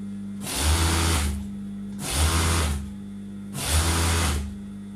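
A sewing machine stitching a tunic runs in three separate bursts of about a second each, a loud, close, steady whirring hum with short quiet pauses between runs.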